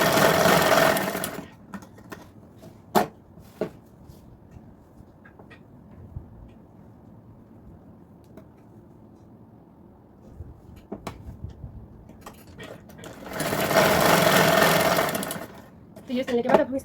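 A sewing machine stitches a blouse shoulder seam in two loud whirring bursts, one at the start and one near the end, with someone talking during the quiet stretch between them and a few sharp clicks.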